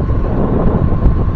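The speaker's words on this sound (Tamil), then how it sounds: "சில்லுன்னா இருக்குங்க காற்று." Cold morning wind blasts across the microphone during a solo motorbike ride through forest country near Kabini, a loud, steady roaring rush with no break and no talking.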